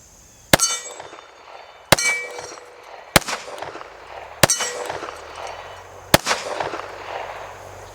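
A Kimber 1911 pistol empties its magazine in five loud, sharp shots spaced about a second or more apart, each followed by ringing echo and rattling mechanical noise.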